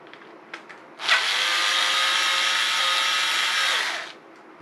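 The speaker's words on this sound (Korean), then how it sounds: "뭉치 하나만 열어보면 될 것 같은데, 이게 전동 드라이버로" An electric screwdriver backing a bolt out of a stainless steel fishing rod rest, giving a steady high whir of about three seconds, close and loud, that starts and stops abruptly after a few faint clicks.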